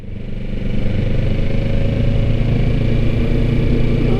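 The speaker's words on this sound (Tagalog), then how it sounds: "May makakasalubong na isang motor." A motorcycle engine drones steadily and loudly close by on a steep road in Bacon, Manito, a low rumbling that builds in the first moment and then holds even.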